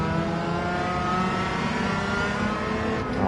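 The Italian Super Leggera factory-variant car's engine in Gran Turismo 7 holds a steady, loud, buzzing drone at high revs throughout, close and continuous with no talk over it.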